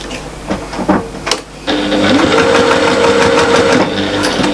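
A sewing machine stitches a fabric pouch, starting with a few scattered clicks and handling noises before a steady, loud mechanical whir runs for several seconds close by.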